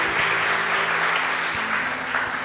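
Sustained applause from a church congregation fills the space, a dense, even wash of clapping with no voices standing out.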